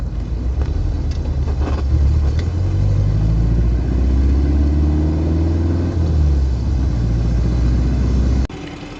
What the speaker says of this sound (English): the 4-in-1 has a muffler, it's not direct, huh?